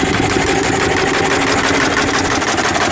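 A miniature coal-fired Garrett traction engine runs steadily close by, a loud continuous chuffing rumble with a fast even mechanical beat and no voices.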